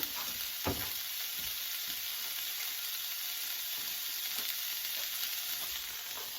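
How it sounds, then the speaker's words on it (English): Vegetables with bacon sauteing in a skillet, a steady close sizzle and hiss running the whole time with a few soft stirring knocks, no talking. "I'm going to saute this here on up in a skillet right here"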